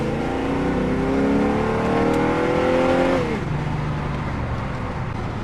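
A 1981 Porsche 928 automatic accelerates in tall first gear, its engine tone rising steadily for a few seconds before the revs fall away into a lower, steady hum, heard from inside the car with no talk.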